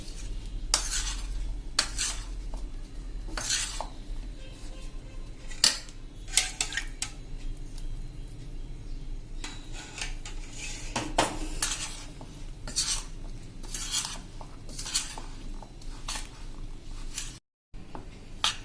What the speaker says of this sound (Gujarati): આ રીતે આપણે કોટેડ કરતા જાશું।